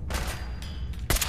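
Gunshots from Fallout 4 crack in a short rapid burst, then a louder final shot closes the moment, with a low rumble underneath.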